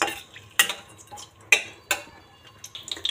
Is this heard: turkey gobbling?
no